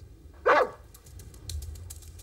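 A dog gives a single sharp, loud bark close by, followed by quiet rustling and faint ticking in a still background.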